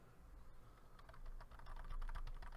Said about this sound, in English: Let's see if I can't type some stuff with it real quick